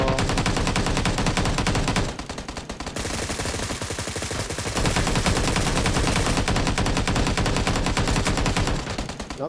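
Dense, rapid automatic gunfire in PUBG New State in TPP mode, loud and nearly continuous, with bursts briefly easing then resuming at full intensity.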